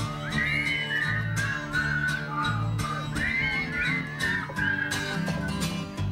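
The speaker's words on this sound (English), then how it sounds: "Let's whistle one. Come on, do it again." A person whistles a short tune, the melody repeating in two similar phrases over a soft background of other sounds.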